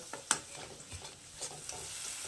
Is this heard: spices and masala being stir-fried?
yes